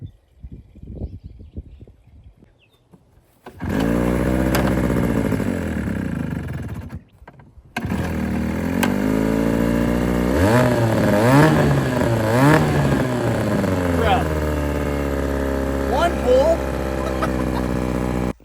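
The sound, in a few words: small Johnson outboard boat motor starting and running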